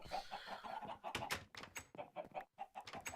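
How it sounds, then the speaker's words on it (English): A bunch of chickens in Minecraft cluck in quick, overlapping bursts, close by and moderately loud, with brief pauses between groups of clucks. "And here are a bunch of chickens."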